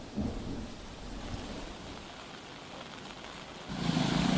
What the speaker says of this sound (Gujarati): સવારથી ધોધમાર વરસાદ વરસી રહ્યો છે।